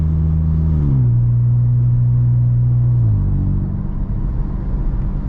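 A 2025 VW T-Cross with a straight-through exhaust and Stage 1 tune to 116 hp drones loudly and steadily from inside the cabin, its engine pitch dropping at about one second and again near three seconds, with no voices.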